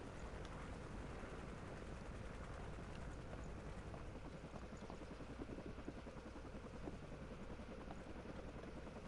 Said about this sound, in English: The helicopter has arrived.